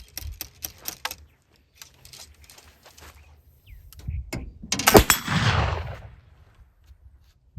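A black powder rifle loaded with raw cotton wadding fires at an outdoor range, one loud sharp report with a rolling echo, set among scattered clicks and handling noises.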